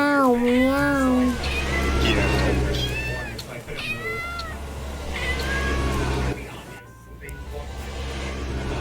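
A cat meows repeatedly, with several drawn-out, wavering cries close by, while voices talk in the background.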